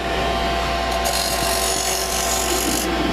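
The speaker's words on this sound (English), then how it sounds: "The V tool was kind of used by pushing it straight in, and then you could turn a bead by simply pulling it across" A V tool turns a bead on a spinning wood lathe, making a loud, steady scraping whir that swells briefly as the cut deepens, with no voices.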